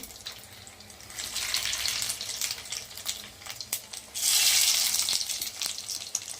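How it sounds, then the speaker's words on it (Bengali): Chicken tikia patties slid into hot oil one by one over low heat, a close bubbling sizzle that swells into two louder bursts as each patty goes in, with small clicks and taps between. "বন্ধুরা দেখুন আমি তেলে ছাড়ছি, আস্তে আস্তে আমি তেলে ছাড়বো।"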